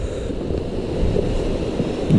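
Water from a 150-foot hidden waterfall in Keonjhar rushes in a steady, broad roar, continuous and fairly loud with no talking, like wind-blown surf.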